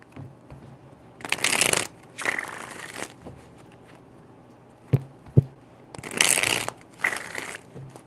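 Tarot cards are shuffled in four brisk bursts of riffling, two pairs separated by a pause with a couple of soft taps between.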